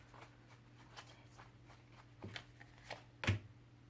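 Tarot cards shuffled and one drawn during a reading, soft scattered card flicks and slides building to a sharper snap near the end, quiet and close with no talking.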